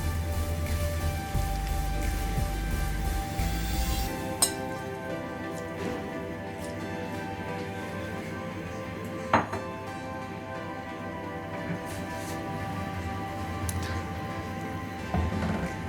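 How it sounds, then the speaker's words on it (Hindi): A loud rushing pour as rice goes into boiling beef broth in a pot for Kabuli pulao, then quiet simmering with occasional clinks of metal against the pot. "यखनी बिल्कुल उबल चुकी है। अभी इसमें जाएंगे चावल।"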